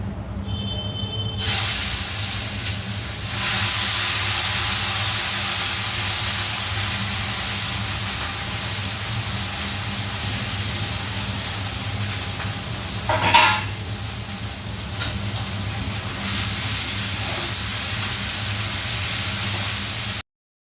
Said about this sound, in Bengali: একদিকে বসিয়েছি উচ্ছে আলু ভাজা